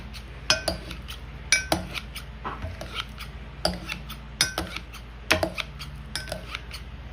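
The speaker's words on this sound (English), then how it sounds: "you just want this to be coarsely chopped, so we're just going to go through it a few times" A knife coarsely chopping air-fried chicken tenders on a board for a California Cobb salad, a series of sharp close knocks in quick uneven clusters with softer taps between them.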